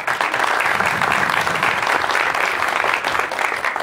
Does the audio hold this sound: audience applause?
yes